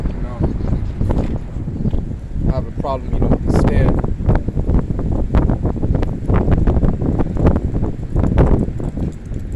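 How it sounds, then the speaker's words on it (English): Strong wind buffets the microphone in a steady roar while someone talks over it outdoors. "it's a little windy out here"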